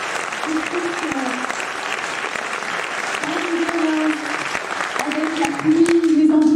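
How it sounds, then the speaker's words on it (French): An audience at an awards evening claps steadily and warmly right after a singer's performance, while someone speaks over the applause at close range. "Merci de l'applaudir encore"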